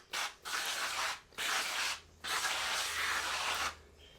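Four bursts of aerosol spray hiss as waterproofing is sprayed onto a rain jacket, each lasting about a second with short gaps between, fairly close and steady.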